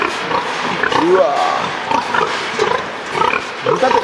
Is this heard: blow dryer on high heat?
no